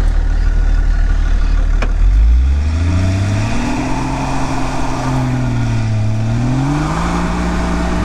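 A Lada Niva, an off-road car, climbs a steep hill during an all-wheel-drive test. Its engine revs up hard after a thump, then holds and swells in pitch as it strains uphill, loud and close, with no voices.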